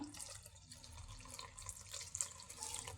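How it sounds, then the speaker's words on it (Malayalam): Jaggery syrup is strained and poured into a pan as a faint, continuous liquid trickle with soft splashing and dripping, heard close and quiet throughout. "ശർക്കര പാനി നമുക്കിതിലേക്ക് അരിച്ചൊഴിച്ചു കൊടുക്കാം."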